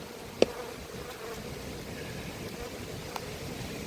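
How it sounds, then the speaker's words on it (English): Honey bees crowd over two frames at an apiary amid robbing, giving a faint, diffuse buzzing hum with a couple of sharp nearby clicks, steady and low in level throughout. "Those two frames down there are absolutely covered in bees now"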